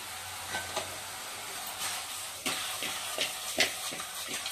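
A spoon scrapes and knocks around a pot of country chicken and drumstick curry in several irregular strokes, with a soft sizzle underneath; no talking.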